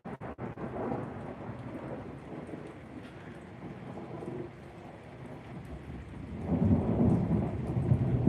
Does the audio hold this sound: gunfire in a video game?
no